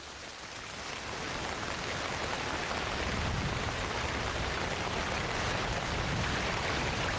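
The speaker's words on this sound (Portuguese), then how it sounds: "as chuvas chegam com toda a força" Heavy tropical rain pours down in the Amazon rainforest, a dense, steady hiss that builds in the first second and then holds loud and unbroken.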